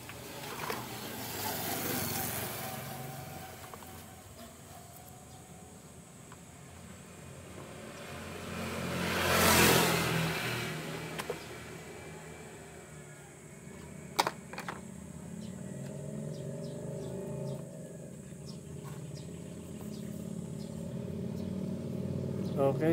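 A high pressure washer's motor-driven pump runs roughly as the washer fails to draw water, giving a steady, moderately loud mechanical drone with a grinding, uneven edge and occasional clicks and knocks.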